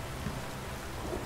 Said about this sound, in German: Oh, das sieht schön aus, das Gewitter.